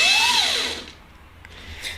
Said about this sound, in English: there's a shaft that comes off the drill, turns a gear here, and turns several other gears until you get the little drill bit down here to